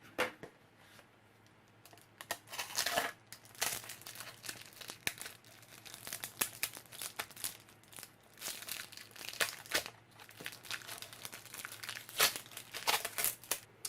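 Cutting a foot-long RC car antenna free of its plastic packaging while unboxing a 1:18 scale Ferrari 458 Challenge RC car, with near, irregular bursts of crinkling and tearing plastic and steady snips throughout, no talking.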